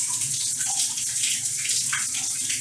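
Cold water from a shower sprays in a steady, close hiss with no pauses and no talking.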